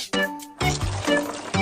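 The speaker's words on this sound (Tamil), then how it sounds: "அதனால தேவையான அளவு தண்ணி ஊத்தணும்" Water is poured into a pot holding five cups of rice for cooking, with a few short splashy gushes and gurgles in quick succession, close and fairly loud.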